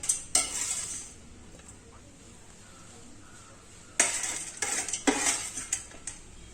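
A spoon mixes sautéed onions into paniyaram batter in a bowl, giving a burst of metal clinks and scraping, a long quiet pause, then more rapid clattering strokes close by.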